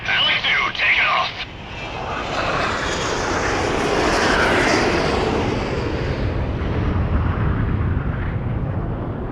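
Fighter jets take off in the video game Ace Combat X, a loud jet engine roar building and sustaining after brief radio chatter, with voices heard at the start.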